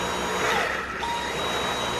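A vacuum cleaner whines steadily and close by as it is run over a dog's coat, a continuous high-pitched motor hum with no talk over it.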